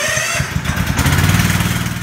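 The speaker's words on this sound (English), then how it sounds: "Next, I'm going to show you how to properly start your lawnmower." A Toro zero-turn lawn mower engine catches and runs on choke, a loud, close mechanical rumble with rapid pulsing firing that settles into a steady throb.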